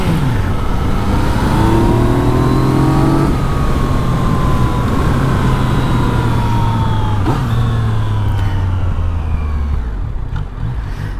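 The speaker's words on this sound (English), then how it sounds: "That inline 3-cylinder sounds amazing." Yamaha MT-09 motorcycle with an inline three-cylinder engine, a loud, close, sustained engine drone with rising and falling revs and shifting pitch, alone without talk.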